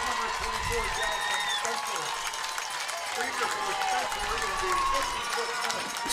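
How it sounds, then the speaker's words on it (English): A stadium crowd at a 2013 Washington Spirit vs. Chicago Red Stars women's soccer match applauds a substitute coming on, a steady, distant wash of clapping and crowd noise lasting throughout beneath a commentator's voice. "Nice round of applause for Krieger."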